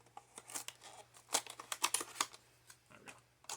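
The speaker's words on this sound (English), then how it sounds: "Now let's just rip it open." Cardboard and plastic packaging of a Samsung Galaxy S21 Ultra is torn open by hand, producing close, irregular bursts of crinkling and ripping that rise in the middle then taper off, with no talk.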